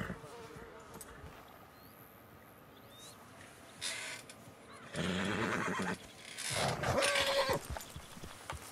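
A horse in Red Dead Redemption 2 whinnies in a couple of loud, shaky bursts over low background noise, with quieter rustling and snorting between them.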